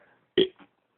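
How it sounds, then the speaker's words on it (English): A loud, close burp erupts abruptly and lasts about a quarter second, followed by a shorter, softer second gurgle, with faint murmuring beforehand. "we burp like this all the"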